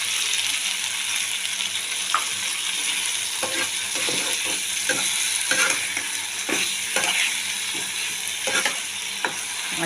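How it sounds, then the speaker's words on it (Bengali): A spoon stirs mustard paste through drumsticks and boiled potatoes in a hot pan, irregular scraping knocks over a steady sizzling fry, close and fairly loud, with no voices. "দেখুন এবার আমি সর্ষে বাটাটা দিয়ে দিচ্ছি, দিয়ে একটু নাড়িয়ে দিয়ে"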